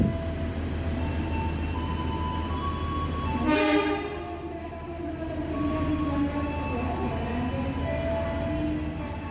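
A train idles at Kutoarjo station in Indonesia with a steady low rumble, a loud horn blast partway through, and metallic squeals from wheels.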